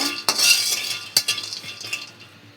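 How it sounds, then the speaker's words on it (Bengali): Raw peanuts are stirred and dry-roasted in a pan, with sharp metallic clinks of the spoon against the pan at irregular intervals over a soft rattling of nuts. "এখন বাদামটা আমি একটু হালকাভাবে নাড়াচাড়া করে ভাইজা নিব"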